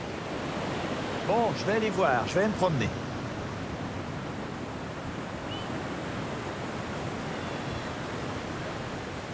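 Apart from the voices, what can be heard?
ocean waves at a beach resort in El Salvador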